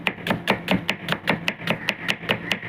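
Chilies being chopped on a board with a knife for samosa filling, about a dozen steady evenly spaced cuts, close and clear with no talk.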